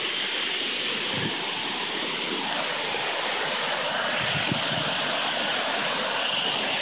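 A steady, full rush of falling water roars on without a break, dense and constant, with no other sounds standing out.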